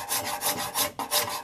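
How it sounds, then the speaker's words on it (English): A hand-held steel card scraper drawn over a wooden furniture surface to expose the grain gives five or six rhythmic rasping strokes, close and fairly loud, with no talk. "I'm going to use the card scraper on here just to see what the grain looks like."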